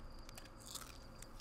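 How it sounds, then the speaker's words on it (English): A crunchy marshmallow is bitten and chewed by a campfire in the Outer Wilds video game, a brief faint crunch over a low steady background hum. "He ate that crunchy ass marshmallow."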